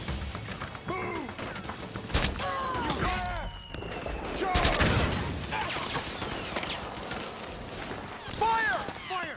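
Rapid gunfire bursts and explosions from the Metal Gear Solid 4 video game battlefield, dense and loud throughout with sharp repeated shots, mechanical clanks and game-character voices shouting.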